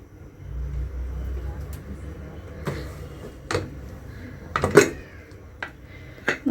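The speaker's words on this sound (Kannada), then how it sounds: "ಇವಾಗ ಅದನ್ನು ಕುಕ್ಕರ್ ಓಪನ್ ಮಾಡ್ಕೊತಾ ಇದ್ದೀನಿ." A pressure cooker of cooked dal with spinach and tomato is opened, giving scattered metallic clanks and clinks of the lid and pot over a low kitchen rumble, with a person talking between the knocks.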